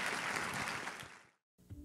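An audience in a packed auditorium at a legal congress claps in a dense burst of applause that fades out quickly, followed by faint room noise.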